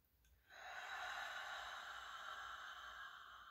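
A slow, deep breath drawn in through the nose and released through the mouth, a soft airy hiss that swells after a brief pause and holds steady, close and quiet.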